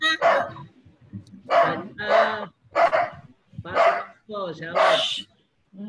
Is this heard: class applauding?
no